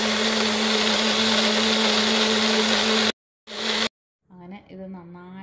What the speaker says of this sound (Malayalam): ഇത് നമുക്ക് മിക്സിയുടെ ജാറിലേക്ക് എടുത്തിട്ട് നന്നായിട്ട് ബ്ലെൻഡ് ചെയ്യാം